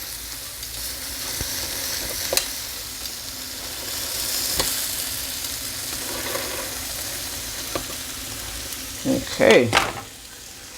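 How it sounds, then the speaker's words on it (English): Food sizzling on a George Foreman grill, a steady soft frying hiss throughout with a few small clicks and a louder scrape near the end as pieces are turned, under one brief spoken word. "That's why I like cooking this George Foreman grill."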